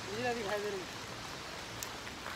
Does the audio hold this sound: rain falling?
yes